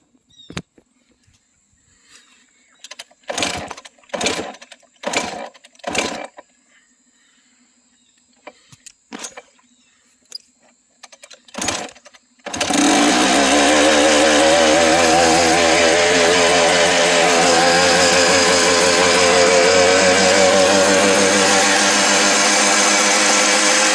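A 100 HP long-travel buggy engine fires up with the choke on after several short cranking bursts, then settles into a loud, steady high rev that holds close and continuous.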